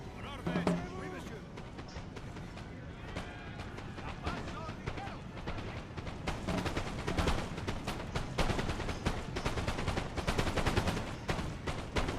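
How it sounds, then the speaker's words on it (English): Musket volleys crackle from all sides in a Napoleon Total War battle, dense repeated shots thickening toward the end, with in-game voices and battle noise mixed underneath. "Getting shots from all sides right now."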